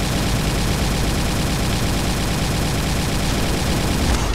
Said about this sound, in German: dann die nächste Plasmawaffe ist die ganz normale Plasmawaffe